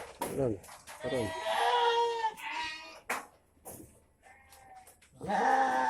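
Fighting goats bleat repeatedly, long wavering cries close by, overlapping one another with brief pauses between calls.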